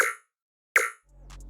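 A synthesized snare drum built on an analog synth, processed with convolution reverb and saturation, strikes twice: two sharp, bright hits with short decaying tails separated by a brief silence, followed by a low hum.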